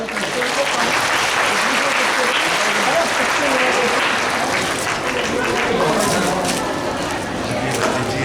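A large audience at a religious gathering of saints in Subhash Nagar, Jwalapur bursts into loud, dense applause that holds steady, a thick wash of many hands clapping at once.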